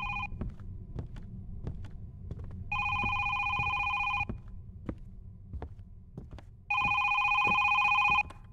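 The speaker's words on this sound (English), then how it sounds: "Phone's going again." Telephone ringing in the horror video game Is Simon There: two long electronic ring bursts repeat with pauses between, over a low rhythmic throbbing background and sharp periodic ticks.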